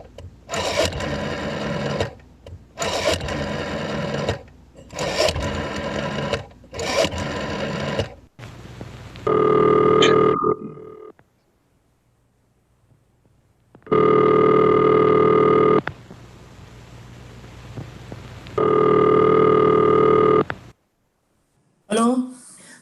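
A telephone rings in repeated bursts with short gaps between, followed by longer tonal buzzes on the line and a voice speaking near the end.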